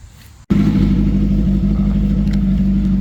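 A car swapped with a Hayabusa motorcycle engine kicks to life after a brief quiet moment, then holds a loud, steady, throbbing drone close by as it pulls away.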